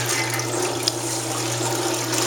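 A wringer washer presses water out of laundry, giving a steady, close rush and trickle of draining water over a constant low motor hum.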